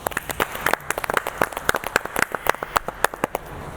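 Applause for the Indian team breaks out in the studio, a brisk run of sharp, separate claps from a small group, loud and close with no voices.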